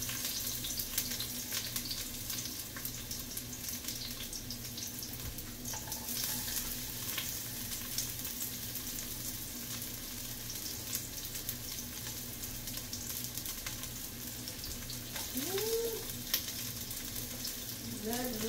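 Onions sauté in a pan for a jackfruit, cabbage, lentil and rice dish, a steady quiet sizzle with faint stirring scrapes throughout.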